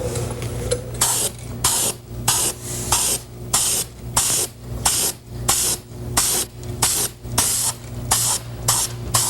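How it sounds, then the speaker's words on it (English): A spray can lays a primer coat onto a car body in bursts, about a dozen short even hisses spaced roughly every half second to second, close and loud over a steady low hum. "Whenever priming, make sure to use smooth, even strokes, periodically depressing the spray nozzle."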